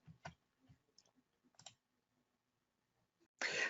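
Mouse click on a preview button in a quiet room: a few soft, sparse clicks scattered through near silence, ending in a brief louder burst of noise.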